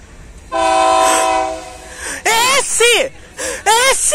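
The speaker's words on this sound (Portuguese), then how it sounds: "mais um trem já tá vindo." A new MRS ES44ACi diesel locomotive passes through the Sahy rail yard, sounding a loud sustained horn blast close by, followed by several shorter horn bursts, while excited voices talk.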